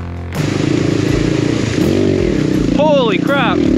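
A BBR KLX170RF enduro dirt bike engine drones loudly and steadily out on a trail ride, its pitch rising and falling as it revs, with a sharp whining swoop near the end; riders talk and shout over it.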